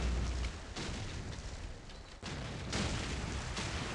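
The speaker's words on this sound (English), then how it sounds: "Waiting for the nades, I'm gonna throw an nade." Explosive grenade blasts in the online shooter Call of Duty 4 during a competitive team match, heavy broadband booms and rumble with sharp onsets near the start, middle and end, filling the whole stretch loudly.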